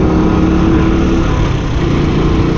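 A truck engine idles on a road in Manipur, northeast India, with a loud, steady, close rumble that holds evenly throughout and no voices.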